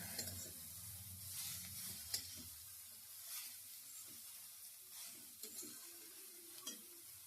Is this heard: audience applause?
no